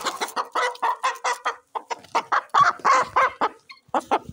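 Hen clucking in a series of short, rhythmic calls, close and fairly loud, at a home where pet birds are kept; no talking over it.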